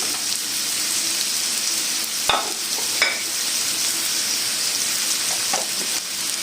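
Three green chillies fry in a pan with a constant dense sizzle, close and steady, with two sharp clinks of a utensil and no voices.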